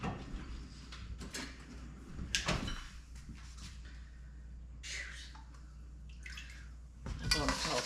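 A big metal bowl clanks and rattles in a home kitchen during spring preserving, with a few sharp knocks and scrapes spread over several seconds against a quiet room background.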